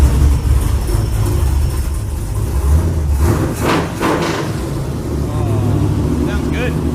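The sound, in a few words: old truck engine started and idling after carburetor repair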